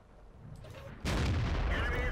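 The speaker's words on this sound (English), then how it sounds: "I'm going to be able to reload and fire another shot." A tank cannon fires in the World of Tanks video game, with a sudden heavy boom about halfway through followed by a sustained loud rumbling tail over the game's background noise.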